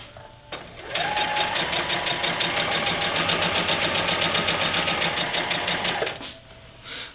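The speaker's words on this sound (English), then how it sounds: "And we'll just sew this right on. Do the 1/4 inch all the way down." A sewing machine stitching a quarter-inch seam along a quilt border, running in one steady fast whir for about five seconds after a brief start, with quiet room sound before and after.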